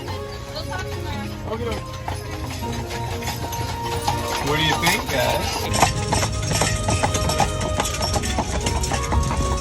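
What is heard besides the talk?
horse hooves of a horse-drawn carriage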